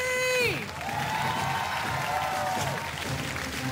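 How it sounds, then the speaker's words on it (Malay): Audience applause and cheering in a reality-show studio, a broad wash of clapping with some whoops, following a descending electronic musical sting at the start. "Tepukan gemuruh lagi."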